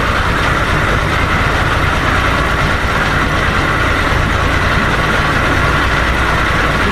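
1992 Johnson 60 hp outboard motor warming up, a loud, dense, unbroken running drone held steady at close range with no talking.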